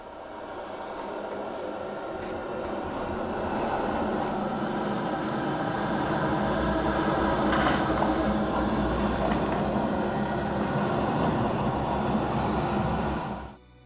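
The swarming bats enemy effect from the Alan Wake video game, built from processed animal cries: a loud, continuous rushing roar with shrill, fluttering texture that swells and holds for over ten seconds before cutting off abruptly.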